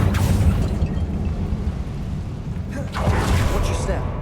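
A Confringo blasting spell bursts in Hogwarts Legacy with a booming explosion and whoosh, followed by a second blast about three seconds later, heavy and close, with game noise rumbling underneath.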